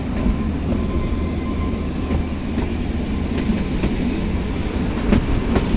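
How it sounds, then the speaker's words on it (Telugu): The Kalka–Shimla toy train runs on the hill railway with a steady, loud rumble from inside a carriage, broken by faint rhythmic clicks of wheels over rail joints. "ట్రైన్ ఇట్లా పడిపోతుంది కిందికి అన్నట్టుగా ఉంది"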